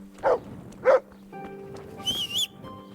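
A dog in the medieval video game Kingdom Come: Deliverance barks twice in sharp, close yaps, followed by a whistle-like high tone.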